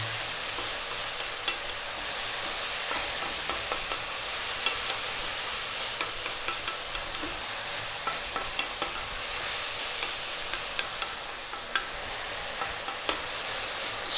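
Chicken and tofu stir-frying over high heat, a steady loud sizzle with scattered clicks and scrapes as the pieces are kept moving, continuous for the whole stretch with no talking.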